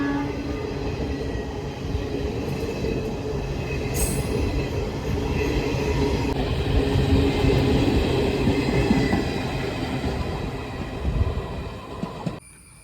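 A Jan Shatabdi express train passes Chowara railway station near an airport, its loud, steady rumble of wheels and cars rolling past for about twelve seconds, with a brief high horn-like tone early on and the noise cutting off abruptly at the end.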